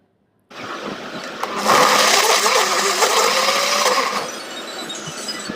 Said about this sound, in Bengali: ছোট ছোট করে কেটে আর ব্লেন্ড করে নেব